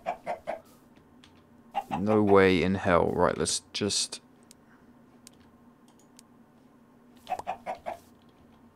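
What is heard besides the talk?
chickens clucking in the video game TerraFirmaCraft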